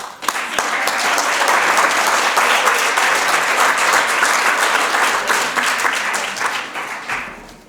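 Audience applause at an annual chamber of commerce awards banquet welcoming a speaker to the stage, dense sustained clapping from a large crowd that holds steady for about seven seconds before fading.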